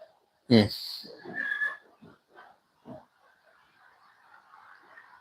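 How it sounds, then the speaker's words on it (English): A sharp, loud pig squeal from inside a slaughterhouse followed by fainter squeals and grunts, with a steady background hum and a voice partly audible. "I don't know if you can hear any animals at the moment, but there's a few pigs in there"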